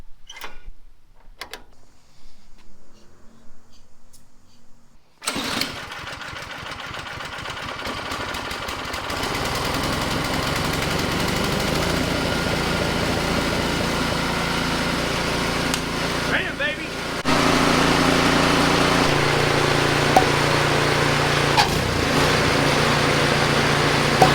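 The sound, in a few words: MTD Craftsman Troy-Bilt snowblower engine running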